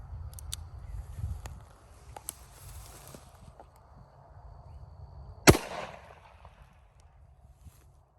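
One sharp, loud gunshot from a Taurus Judge revolver fired outdoors, a sudden crack with a short trailing echo, set against quiet rustling and faint footsteps.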